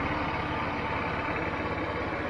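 A 50cc scooter engine idling steadily after a valve adjustment, a close, even putter with a rapid regular pulse and no talk.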